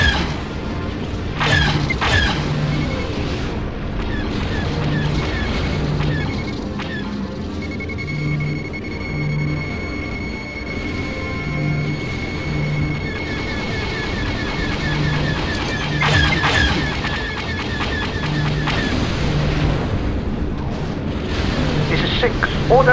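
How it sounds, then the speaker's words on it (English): Space battle in a Star Wars game, with a starship firing: heavy booms and blasts rumble continuously beneath rhythmic laser-like pulses and sweeping high tones, loud and dense throughout. "I've got a starship firing at me."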